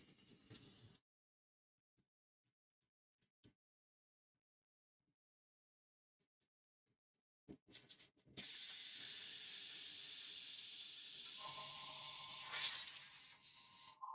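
Airbrush spraying varnish for a Jujutsu Kaisen figure gives a close, steady airy hiss after a long near-silence, with a brief opening burst and a louder surge of spray near the end.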